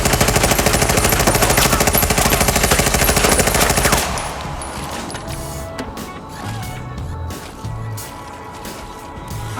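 Loud, rapid automatic gunfire for about four seconds, then cut off abruptly, leaving quieter scattered noise and low rumbling.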